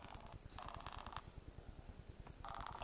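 A telephone ringing on an outgoing call during a casual vlog among friends, heard as faint repeated electronic ring bursts over a low background rumble, with no talking.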